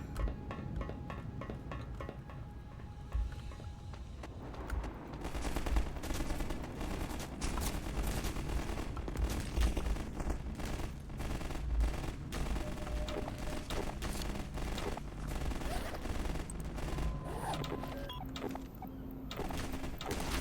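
Sniper rifle and other gunfire in the first-person shooter Hunt Down The Freeman, with a burst of loud shots and clattering combat noise running for most of the clip after a quieter opening.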